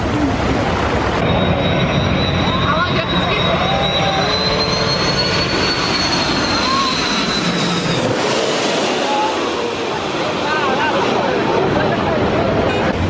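A small plane makes a side approach to land over Maho Beach, St. Maarten, its engine whine rising and fading across several seconds above the noise of the beach crowd and surf.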